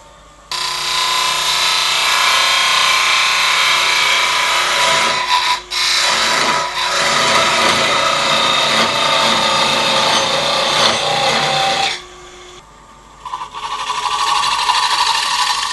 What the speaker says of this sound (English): I always sand at very slow speeds, around about 300-350 RPM